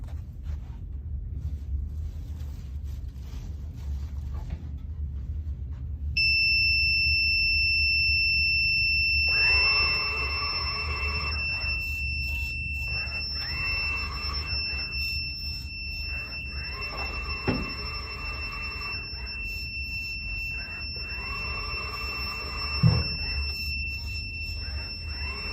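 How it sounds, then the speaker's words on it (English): A student-built runaway alarm clock going off, its steady high-pitched electronic tone sounding continuously over a low motor hum, with intermittent whirring and a few clunks as the device moves. "wait for the alarm to go off"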